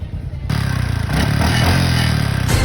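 A motorcycle engine runs steadily close by, its loud throbbing idle holding through the clip after a brief quieter start, with a faint clattering edge.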